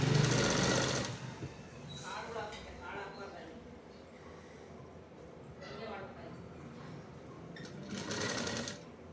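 A sewing machine stitches a sleeve onto a blouse, its loud rapid whirring burst opening the stretch, then running quieter in short runs beneath a person talking, with another louder run near the end.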